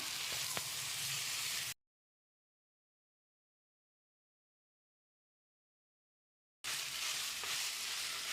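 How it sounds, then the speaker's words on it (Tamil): Tomatoes sizzle and crackle in a hot pan with a stirring scrape, broken by a long stretch of total silence before the frying resumes. "இதை போட்டு 1 நிமிஷம் நல்லா வதக்கி விட்டுடலாம்."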